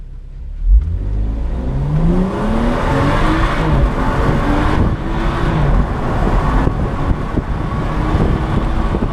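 A BMW 435i convertible in Sport mode accelerates hard, its engine revving loudly from low to high through rising gear sweeps with quick shifts, steady and close with no talking.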